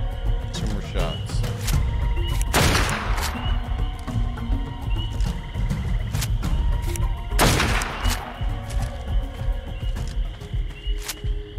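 Gunfire in the modded survival game ARK: Survival Evolved, with two loud booming shots several seconds apart over a busy game soundscape, while someone talks.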